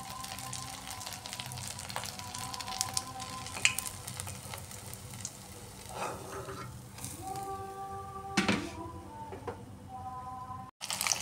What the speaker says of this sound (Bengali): এইভাবে আমি বাকি কোপ্তাগুলোও ফ্রাই করে নিচ্ছি।